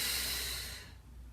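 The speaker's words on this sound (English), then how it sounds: "Inhale, exhale, exhale, inhale, exhale, inhale." A single loud, close breath out through the nose during a Pilates workout, hissing and fading within about a second.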